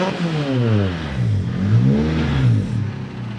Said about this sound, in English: It's amazing how quickly she revs up, isn't it?